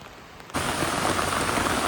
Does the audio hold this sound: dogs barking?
no